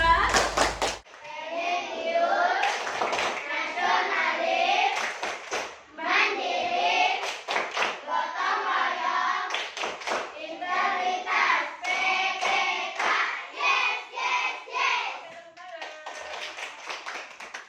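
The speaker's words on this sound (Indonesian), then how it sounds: "kita tepuk PPK dulu bersama-sama" A class of children performs the Tepuk PPK clapping chant in an Indonesian classroom, sharp rhythmic hand claps punctuating their loud unison chanting, close and continuous throughout.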